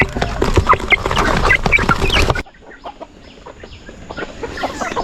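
A crowd of Kadaknath and Brahma cross chicks cheeps and clucks busily at close range. The chatter is dense at first, then thins to scattered softer peeps.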